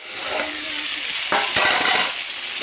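Cauliflower fries with five-spice in a pan, giving a continuous close sizzle with a few sharper crackling bursts and scraping stirs partway through.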